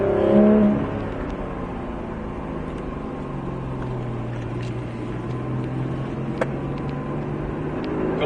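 A Porsche 991 GT3 on light, steady throttle at the Circuit de Bresse gives a smooth, even engine drone that holds at a constant pitch throughout, close and alone with no voices.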